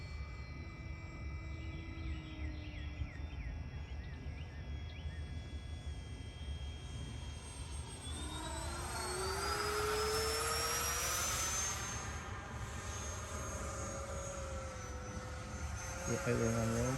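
An FMS Yak 130 70mm electric ducted-fan RC jet making a slow pass, a continuous whining fan tone that rises and swells as the model passes nearby, then fades, over steady outdoor background noise.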